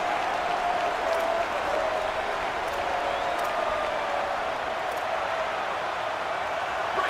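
Steady roar of a stadium crowd at an Ohio State Buckeyes football game in the College Football 27 video game, a dense continuous wash of cheering and applause holding level throughout with no clear voices on top.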